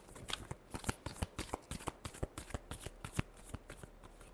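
Tarot cards are shuffled by hand in a close, steady run of crisp riffling flicks lasting a few seconds, with no talk over them.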